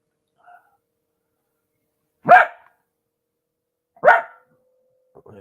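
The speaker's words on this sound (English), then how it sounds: "Patty, there is no need to bark at every small noise" A dog barks indoors, two sharp isolated barks about two seconds apart, close and loud against near silence, with a faint small noise before them.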